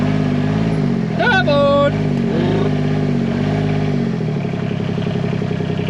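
Motorbike engine idles loudly and steadily close by through a flooded farm scene, with a brief sharp shout and whistle-like tones over it, then the engine note drops lower toward the end.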